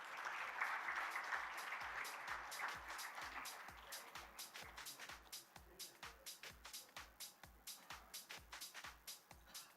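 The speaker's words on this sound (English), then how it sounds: "Let's give them a big round of applause." Conference audience giving a round of applause that starts as a dense crowd roar, then settles into quieter, evenly timed rhythmic claps alongside a regular low thump for the rest of the clip.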